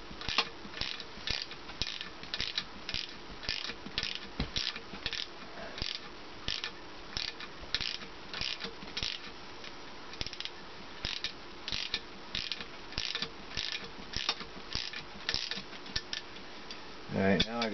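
Ratchet tightening the mounting bolts of a 600 watt PMA wind turbine, a fast even clicking repeated over and over at close range.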